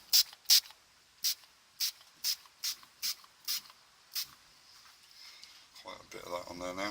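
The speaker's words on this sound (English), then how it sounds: "I'm going to give it another spray over." Short bursts of colour sprayed onto a turned yew wood apple, about ten crisp hissing puffs in quick succession close up, followed by someone speaking at the end.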